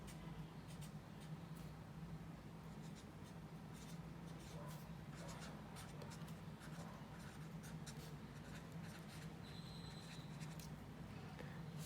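Marker scratching across paper while an anchor chart on division strategies is written, a steady run of short strokes over a constant low hum, fairly quiet and close.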